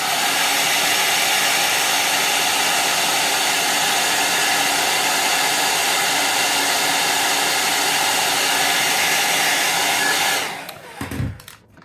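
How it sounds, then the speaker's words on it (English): A hair dryer blows steadily and loudly for about ten seconds, a constant broadband whoosh used to dry Posca paint, then it cuts off and a few brief handling knocks follow. "I use my hair dryer and give it a quick dry."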